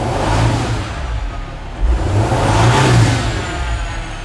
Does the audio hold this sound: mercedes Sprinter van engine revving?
yes